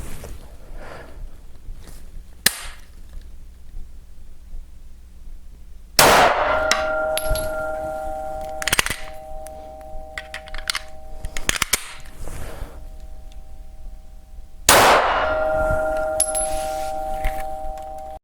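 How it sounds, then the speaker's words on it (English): Two sharp, loud 9mm pistol shots ring out several seconds apart outdoors as Winchester and Cor-Bon rounds are fired into a box, each followed by a metallic ringing tail, with small clinks and handling noises between them. "we will fire the 115 grain Cor-Bon P jacketed hollow point to the left hand side of the box"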